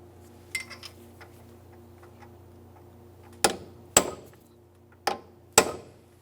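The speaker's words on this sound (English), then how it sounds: "use a hammer and punch and carefully drive a portion of the locking nut down into that slot" A hammer drives a punch to stake an axle locking nut on a 2010-2013 Kia Forte Koup, giving four sharp metallic strikes in two quick pairs, close and crisp over a faint background hum.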